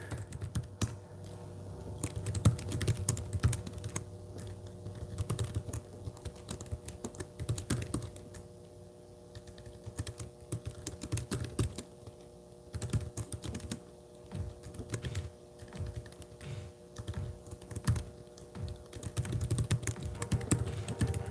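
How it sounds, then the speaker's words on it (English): Quick, uneven keystrokes clatter on a computer keyboard in a quiet room. Bursts of typing run with short pauses for about twenty seconds, close and fairly soft. "I'm just going to type them out here."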